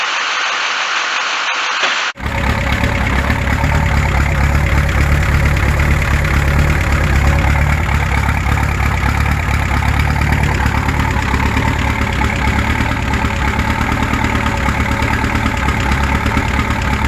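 An old skid steer's diesel engine after a jump start from a Duramax truck: a brief quiet lead-in, then the engine catches and settles into a loud, steady idle that continues without a break.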